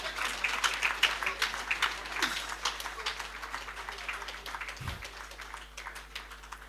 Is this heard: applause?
yes